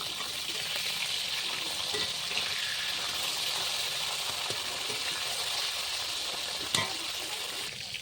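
Pabda and hilsa fish frying in a pan, giving a steady, dense sizzle and crackle of oil throughout, with a faint clink near the end and no talking.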